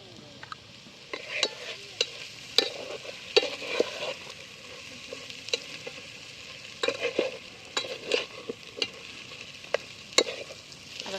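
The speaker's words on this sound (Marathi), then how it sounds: "सगळं मस्त परतून घेतलं" A ground masala paste with turmeric and medium-hot red chili powder being stirred and sautéed in a pan, with repeated scraping strokes and a soft sizzle, close and without speech.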